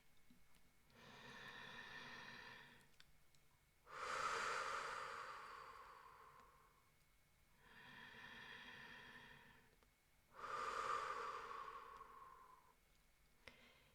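Deep, slow breaths during a guided relaxation exercise, two long inhale-and-exhale cycles, each soft inhale followed by a louder, breathy exhale, close and alone.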